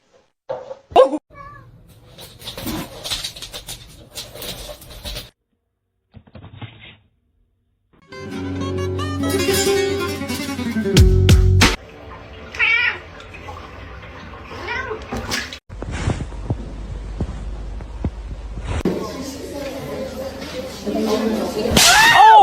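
A cat shut inside a pet kennel meows and yowls in loud, drawn-out cries, some sharp and close, broken by pauses, rattling and scraping noises, with people talking in between.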